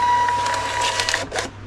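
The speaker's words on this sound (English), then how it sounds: "I'm just going to print that off." A small label printer whirs and buzzes through a short print job at close range, with a steady mechanical hum and a final feed burst near the end.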